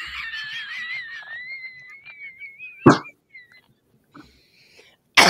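A single sharp sneeze bursts out after a stretch of whistly, nasal vocal noise, followed by a short pause and a second abrupt burst at the very end; a voice is present early on.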